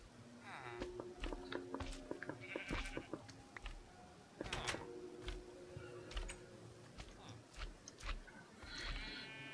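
A sheep man mob from a Minecraft mod gives quavering sheep bleats, several rising and wavering calls spread across the clip, mixed with game footsteps and small clicks, and talk running underneath.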